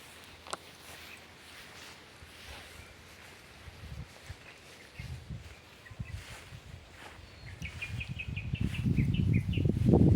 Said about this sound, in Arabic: أصوات العصافير.